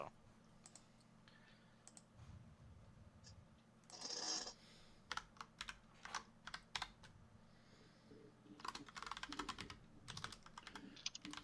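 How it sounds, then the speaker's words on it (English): Rapid bursts of typing on a computer keyboard come in irregular clusters of clicks, near and fairly quiet, with a few louder clattering strokes and no talking. "I'm frantically typing"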